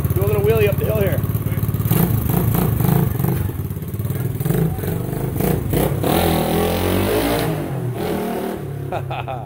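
A 1975 Honda XL175 motorcycle revs hard while pulling a wheelie up a hill, its engine note loud and close, rising and falling with clattering over rough ground throughout.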